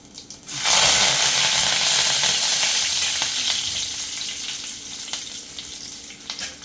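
Cumin, cloves, cinnamon and curry leaves dropped into hot oil for moong dal fry burst into a loud, hissing sizzle that slowly softens into a steady crackle, with faint spoon taps near the end.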